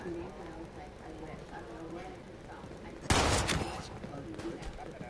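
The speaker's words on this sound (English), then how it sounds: "Except for the shotgun blast." A single loud shotgun blast goes off in the game Ark on PS4, a sudden broadband burst that rings briefly before fading back into the steady game ambience.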